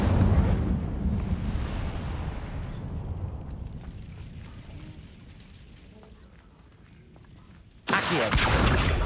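In Hogwarts Legacy, the Incendio fire spell roars out as a loud, rumbling burst of flame that slowly fades, then a second harsh blast erupts abruptly near the end.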